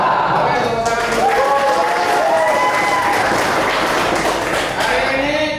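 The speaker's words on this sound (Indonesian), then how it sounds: "Oke, tepuk tangan dulu." A vocational high school automotive class clapping together, loud and close, mixed with voices shouting and calling out over the clapping.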